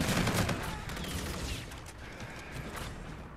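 Gunfight in Call of Duty: Infinite Warfare, rapid bursts of gunfire crackling over a dense mechanical rumble, fairly faint and continuous throughout.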